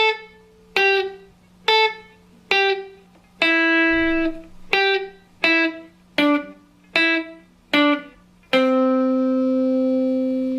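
Electric guitar plays a run of improvised pattern sequences, clean plucked notes in a steady rhythm of about a dozen separate attacks, each ringing briefly, ending on a longer sustained note; no talking.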